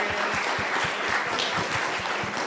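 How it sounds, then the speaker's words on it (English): Audience at a county elections event applauds a panel, a dense, even wash of many hands clapping at moderate volume, continuous for a couple of seconds with no speech over it. "Let's give them a huge round of applause."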